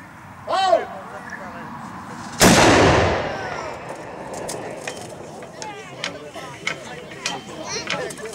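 A cannon fires once with a loud, sharp boom at a battle reenactment marking 600 years since the battle at Babí hory, after a shouted command, followed by a rumbling decay and scattered crowd noise and voices.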